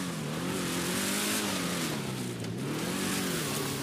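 A car engine in GTA 5 revving continuously with a wavering pitch as it climbs, loud and steady throughout with no talk.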